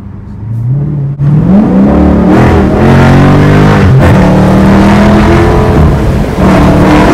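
A car engine revs loudly and continuously, roaring up and down in pitch close by, with no talking.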